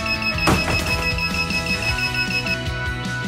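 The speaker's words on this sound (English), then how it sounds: "Alarm system" An alarm on a CrowPi Raspberry Pi laptop kit rings with a bright, repeating electronic melody, clear and close, with no voices.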